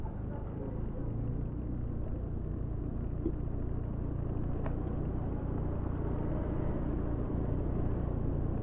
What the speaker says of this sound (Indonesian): sekarang ini di belakang kita ini ada truk